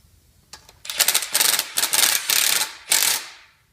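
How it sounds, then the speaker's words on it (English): Ratchet wrench backing out a bolt during BMW thread repair work, a close, loud run of rapid clicking bursts in several short strokes, with no talking. "All we do, take one bolt off, put it in the hole that's already done."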